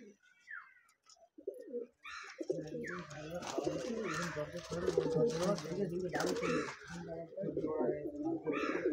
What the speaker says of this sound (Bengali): তারপর এটা ফিমেল পায়রা, হেভি সুন্দর লুক।